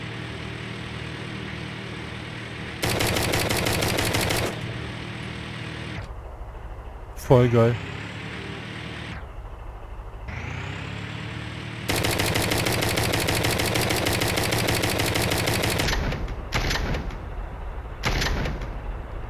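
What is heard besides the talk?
vehicle weapons firing, Brick Rigs video game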